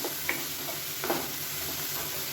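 Two medium tomatoes cooking in hot oil for an egg chukka gravy, a continuous close sizzle broken by a few soft scraping stirs.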